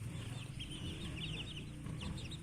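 One-month-old village chicks, some of them black, peep in repeated high chirps over a steady low hum, close by and moderately loud.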